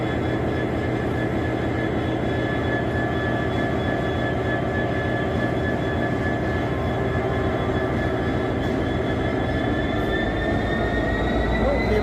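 A freight train stands waiting in London, its engine giving off a steady, loud droning rumble with sustained humming tones that rise slightly in pitch toward the end, with no voices.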